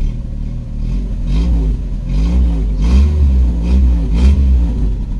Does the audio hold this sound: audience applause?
no